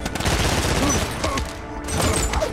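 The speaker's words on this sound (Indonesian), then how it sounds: "rekan Mike harus tewas diberondong tembakan oleh kelompok tentara tersebut" Rapid continuous gunfire crackles loudly throughout, a dense burst of overlapping shots with brief lulls.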